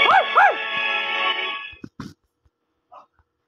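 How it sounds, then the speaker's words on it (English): Up close, a dog lets out two sharp barks that stretch into a long, loud whine, then falls quiet apart from a few faint clicks and a short soft sound. "you wanna bark me again, huh?"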